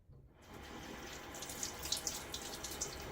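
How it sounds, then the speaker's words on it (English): Hot bloom water poured off a cheap Williams shaving soap, a steady close splashing trickle of water that starts abruptly and runs continuously with small drips and splashes. "I'm going to take and pour off the hot bloom water."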